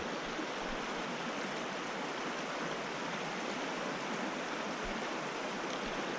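Fast pocket water of the Oconaluftee River, a cold mountain stream, rushes in a steady, dense broadband wash that stays loud and unbroken throughout, with no voices over it.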